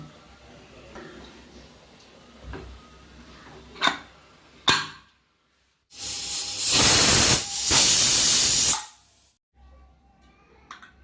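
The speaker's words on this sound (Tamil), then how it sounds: "இப்போ நான் விசில் போட போகிறேன்." Pressure cooker on the stove while cooking veg biryani, giving a few short hisses and then two long, loud bursts of steam release, with quiet pauses between them.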